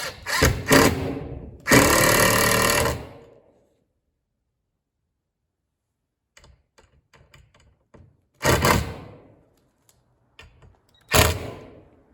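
Power drill driving screws through a wall mount bracket for an Artillian ROPS tool bar, heard as a few short, loud whirring bursts separated by quiet gaps and small clicks of handling.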